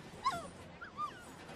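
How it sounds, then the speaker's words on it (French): A dog whimpers in two soft, high whines close by, each brief and rising, over a quiet room background with no talk. "il n'y a pas de problème, il est là, mon chien"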